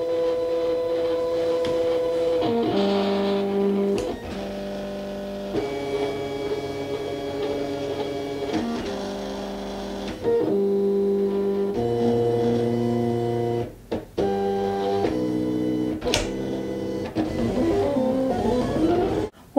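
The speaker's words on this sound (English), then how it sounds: "Now the cutter will pull the mat in and start by detecting the registration marks and start performing the cut." A Silhouette cutting machine pulling in a mat and cutting heat transfer vinyl, its motors whirring and humming in shifting tones with stops and starts, close and loud.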